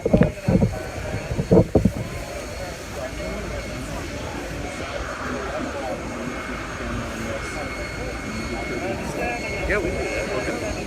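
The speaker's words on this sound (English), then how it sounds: "You can see that plane pulling up" A jet airliner carrying the Georgia football team taxis in on arrival for the Sugar Bowl, its engines a steady roaring whine at moderate distance, with brief bumps and voices early on.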